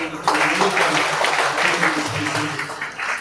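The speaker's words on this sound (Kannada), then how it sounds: "ಒಂದ್ಸಲ ಜೋರಾಗಿ ಚಪ್ಪಾಳೆ" Audience applause rings out at a devotional public program in Davanagere, steady clapping filling the hall for about three seconds, with a voice or crowd murmur mixed underneath.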